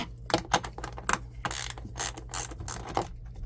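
Ratchet clicking in quick bursts while toilet floor bolts are loosened in an RV bathroom, close and crisp, with short pauses between strokes.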